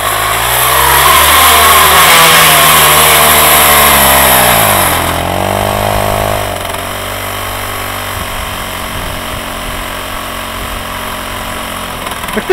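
Krot motor cultivator, winter version, revs hard with a loud, steady engine roar that dips in pitch midway and then settles into a lower, rougher idle.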